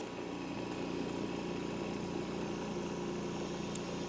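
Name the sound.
Eastwood QST 3060 air compressor starting and running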